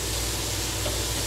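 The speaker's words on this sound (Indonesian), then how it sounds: "Kemudian kita masukkan lombok hijaunya ya. Kita tumis sampai layu ya." Green chilies are stir-fried in a hot pan with oyster mushrooms. There is a steady, close sizzle with a faint stirring texture, unbroken throughout.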